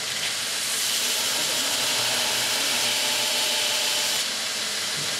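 Steady, loud broadband hiss of a blade edge being ground along its full length, a continuous rasping rush with no pauses, close by.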